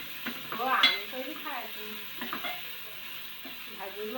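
Tomatoes tipped into a pan of frying flower-vegetable curry with onion, giving a close sizzle and a few stirring scrapes against the pot, with a brief louder burst near the start, then steady crackling.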